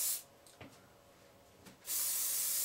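Aerosol hairspray sprayed onto hair to set curled bangs back: two long, loud bursts of broad hissing spray, the first stopping briefly, the second starting after a short pause and continuing to the end.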